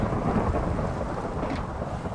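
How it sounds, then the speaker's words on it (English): Rumbling thunder in a Minecraft-style block-building video game, a continuous loud, dense roll lasting the whole stretch with rain-like hiss and no pauses. "Yeah, I hear thunder."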